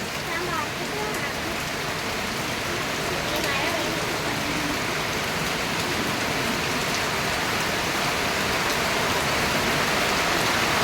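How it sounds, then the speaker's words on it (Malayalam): Steady, dense rainfall hisses loudly throughout, with a broad rushing quality from wind driving the rain; no voices break through. "കാറ്റും മഴയും കൂടെ ഒരുമിച്ചുള്ള വരവാ"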